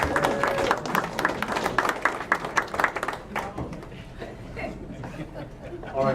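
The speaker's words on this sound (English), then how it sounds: "So we would like you to please give him a round of applause." A community meeting audience gives a round of applause for a man's 50th birthday, brisk clapping for a few seconds that fades into murmuring chatter and light laughter.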